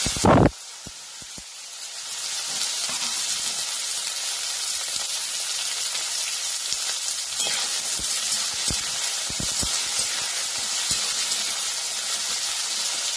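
Ivy gourd (tondli) roasting in a pan gives off a steady, close sizzling hiss for the whole stretch, with a sharp crackle at the start and scattered small pops after that.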